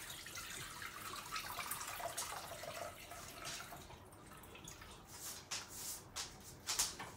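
Turkey drippings pour slowly through a strainer into a bowl, a soft, faint trickle with scattered drips and splashes that swells and fades.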